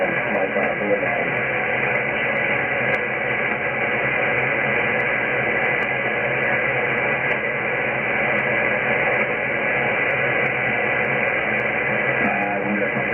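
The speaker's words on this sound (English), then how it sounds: "your signal's kind of low, and I've got a lot of noise today." A weak 40-meter SSB ham radio signal buried in steady loud hiss and static, the band-limited voice barely rising above the continuous noise.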